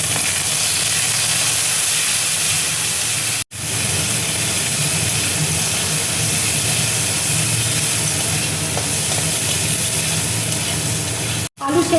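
Grated coconut frying in hot oil gives a loud, steady hissing sizzle that runs unbroken for the whole stretch, with only two brief drops in level and no talking.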